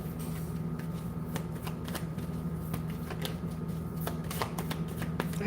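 Tarot cards being shuffled by hand, a steady run of soft riffling and flicking snaps close by, continuous over a low hum with no talking.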